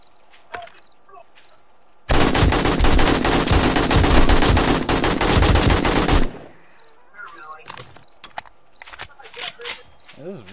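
A long, loud, continuous burst of rapid gunfire lasts about four seconds, with quieter clicks and a few soft voices before and after.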